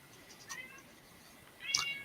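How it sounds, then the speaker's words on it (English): Faint cat meows, two short calls a little over a second apart, the second louder and sharper, over a quiet room background with no talk. "The meows, yes."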